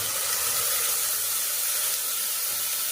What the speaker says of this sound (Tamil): இப்போ இதில் நான் வந்து இஞ்சி பூண்டு பேஸ்ட் வந்து போட்டுக்கிறேன்